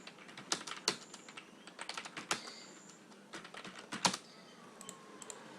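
Someone types on a computer keyboard while working in an Excel spreadsheet, with irregular bursts of quiet, close key clicks.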